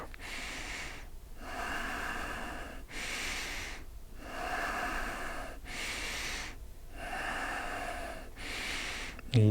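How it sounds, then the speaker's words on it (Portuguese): Slow, deep breaths during a yoga leg exercise, inhaling as the leg rises and exhaling as it lowers, in four long even cycles of close, airy, audible breathing with short pauses between, no talk. "Inspira lá em cima e expira embaixo."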